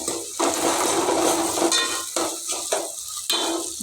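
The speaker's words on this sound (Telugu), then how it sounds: "సో ఆనియన్ అయితే ఫ్రై అయిపోయినాయి" Onions fry in a pan with a steady hiss and sizzle, broken by several bursts of stirring and scraping, close and loud.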